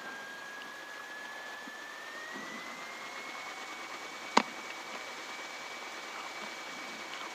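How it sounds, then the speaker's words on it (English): A light aircraft engine idles before takeoff, a faint, steady whine and hum that carries on evenly, broken once by a brief click. "I'm going to check and see if we got a good idle"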